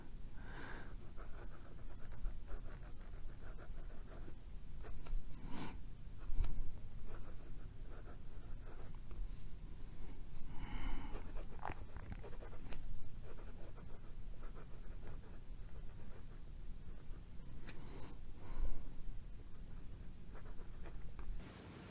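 A Parker Jotter fountain pen held upside down scratches across paper, a soft, continuous scratchy rasp with brief pauses between strokes, close and alone.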